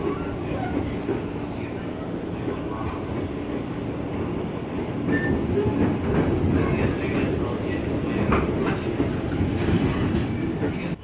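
A Jakarta commuter line train bound for Cikarang pulls out of platform 6 at Pasar Senen station late at night, a steady loud rumble of wheels and carriages that swells slightly midway and continues throughout.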